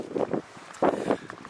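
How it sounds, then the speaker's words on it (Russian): Strong wind blows down a gorge toward the sea in Lazarevskoye, arriving as two broad, close gusts that buffet the microphone between quieter moments. "Ветер дует очень такой сильный, по ущелью дует в сторону моря."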